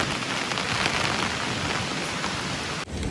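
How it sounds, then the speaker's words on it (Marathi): Loud, steady downpour drumming on a surface in the mountains, briefly dipping just before the end. "त्या साईडला तर खूप भरलेला आहे पाऊस."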